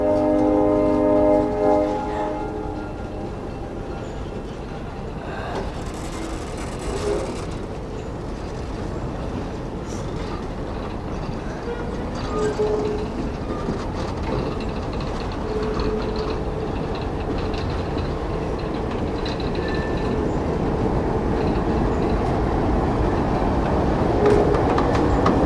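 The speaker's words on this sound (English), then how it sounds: "6777 is pulling the train into the station." Cuyahoga Valley Scenic Railroad locomotive 6777 pulls a passenger train into a station. A horn blast opens, then a steady, loud rumble of engine and rolling cars continues with faint wheel clatter.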